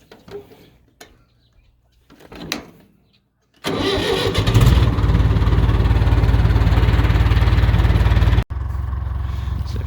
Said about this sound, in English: we get the tractor hooked up and see if the field is ready to carry us